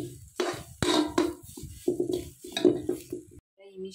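A spoon stirs an ivy gourd fry with urad dal and neem leaves in a pan, giving a run of close, uneven scraping and clinking strokes over a faint sizzle.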